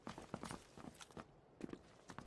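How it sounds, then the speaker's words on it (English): Footsteps on a wooden floor in a shooter video game: a quick run of soft, uneven steps close by, with short pauses between small clusters of thuds. "I heard a footstep on wood."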